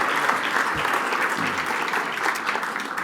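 A seated audience at a Canadian Club education panel event applauds as the panel is introduced, a thick, continuous wave of clapping with a few low thumps and no speech over it.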